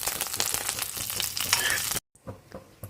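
Mustard seeds and dried red chillies sizzle and crackle loudly in hot oil for a Kerala-style cut mango pickle, a dense continuous spitting that suddenly cuts out, leaving faint scattered pops.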